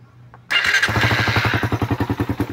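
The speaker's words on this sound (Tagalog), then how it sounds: "Pakinggan natin yung makina dahil maingay yung makina nito" A Suzuki Raider motorcycle, whose engine was run without an oil change and sounds noisy, fires up after a brief quiet lead-in and settles into a loud, close, rapid pulsing idle with a rattly edge.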